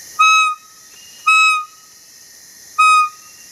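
A children's toy trumpet used as a deer lure, imitating a fawn, blows three loud, shrill whistle-like bleats, each about a third of a second, evenly spaced and alone in silence.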